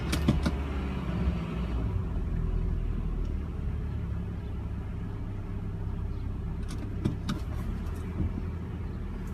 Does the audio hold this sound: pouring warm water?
no